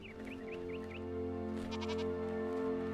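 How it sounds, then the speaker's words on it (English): Goats in the video game Enshrouded bleat in a quick run of about five short calls, moderately close, over a steady low background hum, with a few fainter sounds following. "we're getting a little overrun with goats"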